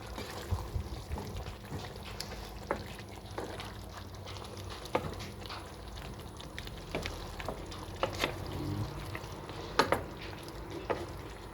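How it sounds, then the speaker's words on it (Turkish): Eggplant pieces go into a pot of simmering venison vegetable stew, giving a steady low bubbling and cooking rumble with scattered soft clicks and clatters of ingredients dropping in, close and alone. "Evet patlıcanları da atıyorum içerisine."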